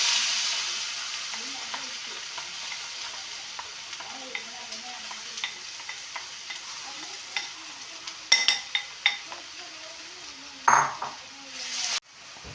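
Sesame seeds and banana are stirred and fried in a pan, a soft steady sizzle running under gentle scraping, with a few sharp utensil clinks against the pan near the end.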